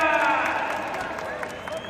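A crowd claps and cheers at a wrestling match in Kharadi, a dense burst of applause that fades slightly over two seconds, with a voice speaking loudly over it.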